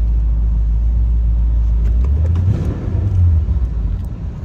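A 1979 Corvette engine runs loud and close while the car backs up, a deep steady rumble that rises slightly as it moves, then settles.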